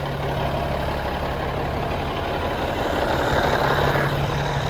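An old cabover truck's engine idles steadily with a low, even rumble and a constant droning hum, close by and heard alone with no talking.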